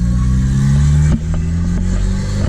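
A Volvo 740 turbo engine running an open downpipe with the exhaust cut off revs loudly up close, a deep droning rumble that dips sharply with a brief clattering drop before settling back to a steady idle.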